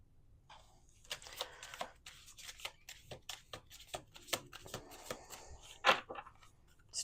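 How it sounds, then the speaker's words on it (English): Quiet, crisp riffling and tapping of a deck of tarot cards being shuffled, in short irregular bursts with small slaps, close by in a quiet room. "Let's do 2 more shuffles."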